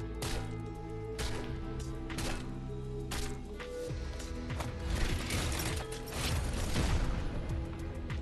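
A Walker Club pickaxe from Fortnite, a Walking Dead themed item, gives a busy run of mechanical clanks, ratcheting clicks and hard whacking impacts, loud and layered for about eight seconds with no talk.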